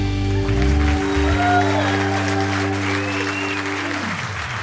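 A live audience bursts into steady, loud applause to welcome the host onstage at a podcast taping, the clapping sustained throughout alongside a held musical chord that fades out near the end.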